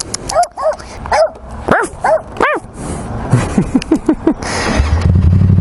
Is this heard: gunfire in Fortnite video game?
no